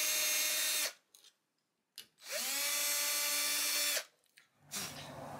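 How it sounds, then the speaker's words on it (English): A power drill cuts holes through a metal license plate mounted on a wooden guitar headstock in two sustained bursts separated by a brief pause, with a quieter start of a third run at the end. "we drill this out cleanly."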